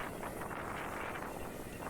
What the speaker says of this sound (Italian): Adesso il vento rispetto a prima è leggermente aumentato